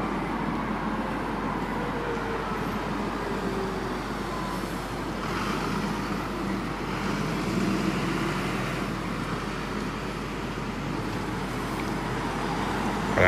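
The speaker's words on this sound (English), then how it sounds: "An Enviro 400, go aheads E117, bound for Kingston on the 57." Alexander Dennis Enviro 400 double-decker bus on route 57 toward Kingston, passing steadily through roadside traffic in Norbiton, London, with a continuous engine drone and road rumble at moderate distance.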